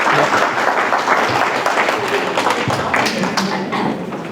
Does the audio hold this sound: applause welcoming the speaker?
yes